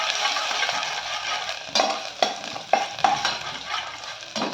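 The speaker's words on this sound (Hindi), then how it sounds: "उसको सौते कर लीजिए" Garlic and ginger are sautéed in a pan for a mixed vegetable and barley soup, a soft steady sizzle broken by several sharp scraping stirs of a spoon against the pan, close and without speech.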